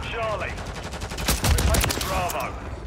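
Sidewinder rifle in Call of Duty: Modern Warfare III firing a steady run of shots at a slow cadence, loud and close, mixed with in-game announcer chatter and faint background voices.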